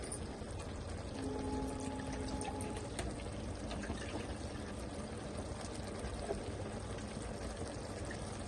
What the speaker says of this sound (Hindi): आधा कप इसमें पानी डालेंगे